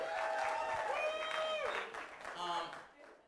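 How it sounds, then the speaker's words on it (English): A crowd applauds steadily while a voice speaks over the clapping, which thins out toward the end. "One more time, a round of applause for you guys for coming out tonight."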